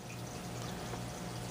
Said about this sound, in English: As you can see, there's a waterfall.